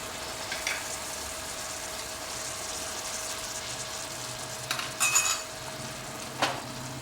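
Masala with garlic-ginger paste and a splash of stock sizzles and fries softly in a pan for goat mutton ribs, a steady low hiss broken by a few brief clinks and scrapes of a utensil against the pan.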